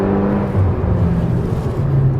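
Low, rumbling Hyundai car engine with throaty aftermarket exhaust drone, pitch shifting slightly as it pulls under acceleration, heard from inside the vehicle.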